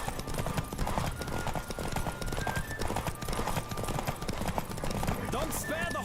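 A horse gallops in The Witcher video game with rapid, continuous hoof clip-clop close by, an occasional whinny, and voices talking over the hoofbeats.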